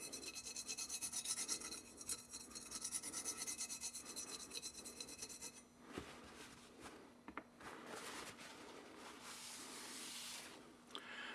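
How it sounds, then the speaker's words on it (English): A copper penny dipped in oil scraped back and forth over rusty gun metal, making a steady close rasping rub in quick repeated strokes, then slower, more irregular scrapes. "you can feel how rough that is when you're rubbing that penny"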